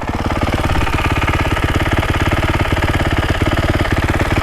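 A Ducati 450 Desmo 450MX motocross engine idles close by, a loud, steady rapid thumping pulse that holds an even rhythm with no talk over it.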